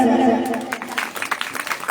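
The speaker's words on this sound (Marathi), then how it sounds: "आमच्या काकूसाठी टाळ्या मारा." Audience applause at a Shrimad Bhagavat katha gathering in Paratwada, rising after speech as a burst of scattered, moderately loud clapping from a crowd.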